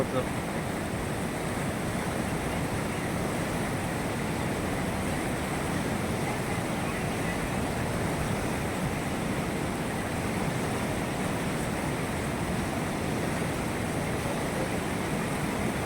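Fast-flowing floodwater near Bheema Lingam rushes steadily around a car in a broad, constant roar, with a wind-like hiss over the whole stretch and no voices.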